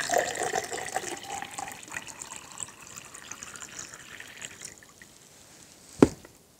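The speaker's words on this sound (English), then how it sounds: "Now, when I pour water into this thing" Water poured into a metal-casting sprue, a steady splashing pour that gradually fades and thins, ending with a brief louder splash or knock near the end, with no talking.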